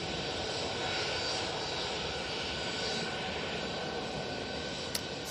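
A Ryanair passenger jet at Manchester Airport gives off a steady, loud broadband engine roar that holds evenly throughout, with no talk over it.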